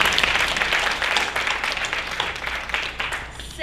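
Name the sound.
audience applause for the teacher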